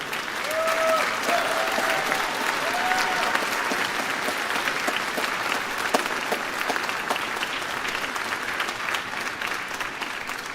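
Sustained applause from an audience at an 8th grade band and jazz concert, steady and dense across the whole stretch, with a few faint voices mixed into the crowd noise.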